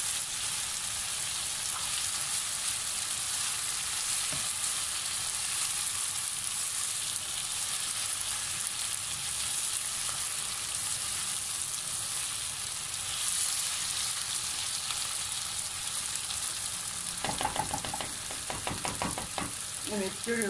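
Tomato paste fries in a pot while being stirred, producing a dense, even sizzle that holds steady for the whole stretch, with a few scraping stir sounds near the end and no talk.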